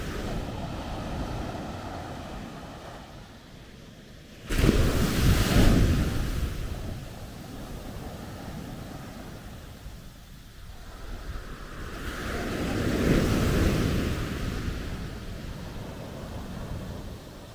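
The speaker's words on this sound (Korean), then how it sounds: "지금 파도가 세고" Strong surf at Natai Beach, Khao Lak, a loud steady roar of breaking waves with two big surges and wind buffeting the microphone.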